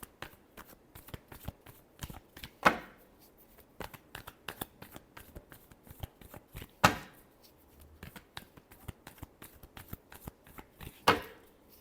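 Tarot cards shuffled by hand at close range in a soft, rapid riffle of papery flicks, with three sharper snaps of the deck spaced several seconds apart and no talking.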